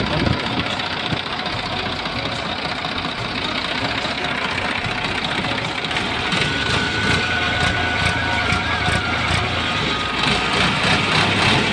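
A New Holland 3230 NX tractor's diesel engine, a 2009–10 model, idles steadily nearby with a low, knocking rumble and mechanical clatter, running continuously throughout.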